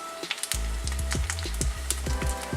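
Tofu pieces frying in an oiled pan give a steady, close crackling sizzle with scattered pops and spits, plus a few low knocks and thumps as they are turned over.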